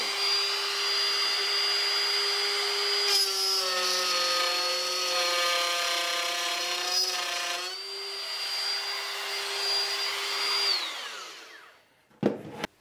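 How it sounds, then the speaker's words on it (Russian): Wood router cutting a board guided by a clamped carpenter's square, a loud steady high whine with a pitch dip mid-pass, running alone for about eleven seconds before spinning down. "Все, и работаем фрезером."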